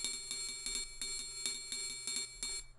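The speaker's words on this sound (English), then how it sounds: "mostly the triangle loop here" A looping triangle pattern rings with reverb in a percussion beat, repeated sharp metallic dings in a quick, steady rhythm, fairly quiet and alone.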